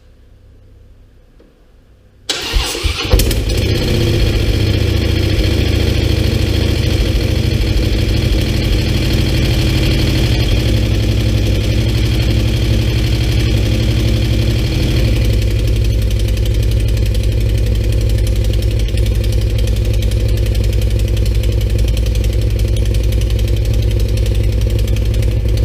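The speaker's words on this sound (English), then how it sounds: "the bike's started up, it's running fine" A Harley-Davidson Road Glide motorcycle engine starts up after a rebuild and settles into a loud, steady idle with a slight rattle, running continuously and close by with no talk.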